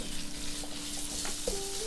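Minced meat frying in olive oil in a pan over medium-high heat, a constant close sizzle with light clicks and a brief scrape near the end.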